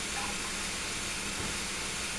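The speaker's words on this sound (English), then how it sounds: "I'm going to bring them up just so that we can see how much steam we're wasting." Steam hisses continuously from a 7F steam locomotive in Train Simulator 2018 on the SDJR, a faint, even broadband rush with no talking.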